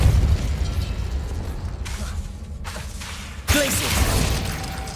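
The Depulso spell effect from a Harry Potter video game lands as a sudden loud burst with a booming, crackling impact over rumbling game background, ending in a short whooshing tail.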